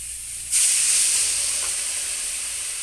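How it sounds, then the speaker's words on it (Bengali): Water poured into a hot pan of small fish, heard as a sudden loud burst of steam and hissing sizzle that starts after a brief quiet moment and then slowly fades, with no talking. "এবার দিয়ে দিচ্ছি জল"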